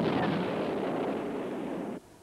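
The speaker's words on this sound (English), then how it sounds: "A tornado releases a cluster of bomblets specially designed to cause severe damage to the concrete surface of an enemy runway." Cluster bomblets dropped by a Tornado jet bursting across a concrete runway, a dense roaring rumble of overlapping explosions that holds steady for about two seconds and then cuts off abruptly.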